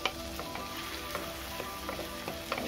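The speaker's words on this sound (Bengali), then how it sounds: "দেখো এবারে এই তেলে খুব ভালো করে দেখো লঙ্কাটাকে আমি দিয়ে দিয়েছি।" Green chili and onion paste sizzles in hot oil in a pan for a village-style puti fish curry, a steady close frying crackle with occasional stirring clicks and no talk.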